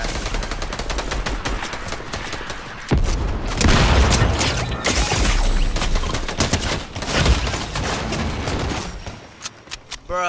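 Fortnite gunfire: sustained rapid volleys of shots and machine-gun bursts, loud and close, with clanking mechanism sounds and a brief lull near the end.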